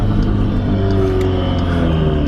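A manual Audi revs its engine through an upshift, a loud, close, steady engine drone with the pitch climbing and then settling.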